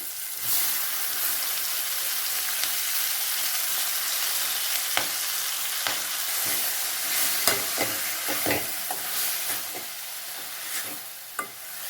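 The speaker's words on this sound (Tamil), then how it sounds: "கீரையை எண்ணெயிலே நல்லா வணக்கிக்கலாங்க" Fenugreek greens frying in oil in a pan, a steady close hiss and sizzle with occasional soft scrapes and clicks of a spoon stirring, no talking.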